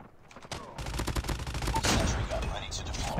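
Rapid bursts of automatic gunfire from Call of Duty Mobile, loud and close, with crackling shots sustained across most of the moment.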